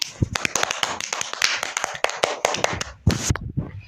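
Scattered hand claps for Mustafa ring out close and sharp, uneven and sparse rather than a full ovation, with a brief denser burst near the end.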